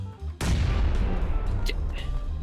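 A grenade blast in the PUBG battle royale game, a sudden loud boom followed by a dense, sustained roar of rumbling noise with scattered crackles, standing alone without voices.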